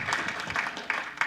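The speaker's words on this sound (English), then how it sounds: "I think round of applause." Brief, modest round of applause from attendees at a school board regular meeting, a few scattered claps rising and fading within about a second.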